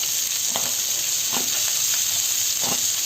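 Chopped vegetables for Schezwan fried rice, among them capsicum, beans, carrot and cabbage, sizzle steadily in a hot pan, while three evenly spaced stirring scrapes rise above the constant hiss; no voices are present.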